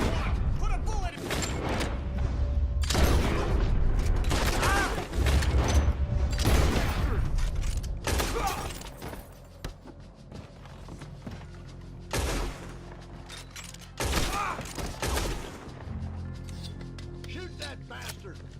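Gunfire in the Red Dead Redemption 2 game: bursts of shots and sharp blasts mixed with mechanical clicks, loud at first and then sparser and quieter.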